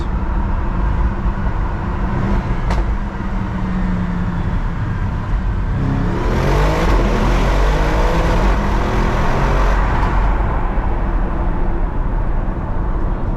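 An Audi RS7 on a night drive downshifts and then pulls hard into a tunnel, its loud engine roar rising through blips and acceleration. Booming tunnel reverberation swells midway, with no talk over it.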